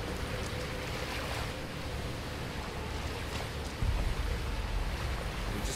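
Rushing water in Witcher 3 fills the scene with a steady broadband wash like surf or a torrent, with a slightly louder surge near the end and no speech.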